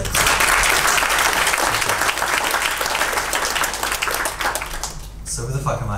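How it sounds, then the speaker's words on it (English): A conference crowd at a web typography talk gives the organizers a loud, dense round of applause that holds steady and then cuts off near the end, when a speaker begins talking. "I think everyone should give, all the organizers a big round of applause."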